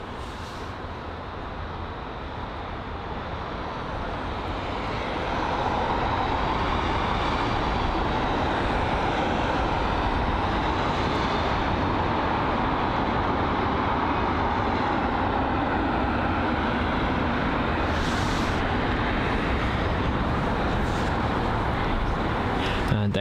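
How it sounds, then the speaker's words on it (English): Virgin Atlantic Boeing 787 taxiing at Heathrow, a distant steady jet engine roar that swells after a few seconds and holds as a constant broadband rumble. "focus on this Virgin Atlantic 787 in the distance, and that's taxiing to 27 left for departure."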